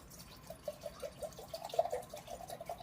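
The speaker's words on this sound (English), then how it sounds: "we're going to add 2 cups of water, and then 2 cups of white vinegar." Water and then white vinegar are poured into a container for pickling carrots, a soft, faint gurgling trickle of liquid that runs steadily and quietly with no talking.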